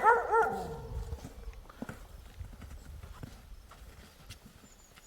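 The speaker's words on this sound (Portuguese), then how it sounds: "Cachorro latindo." A dog barks a few times up close at the start while moving through snow, the barks fading into soft crunching footfalls and faint rustling.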